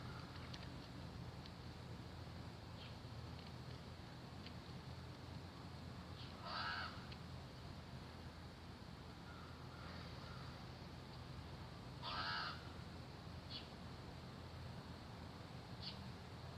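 A crow caws faintly from a distance outdoors, two or three short harsh calls spaced several seconds apart over a low, steady background of wind.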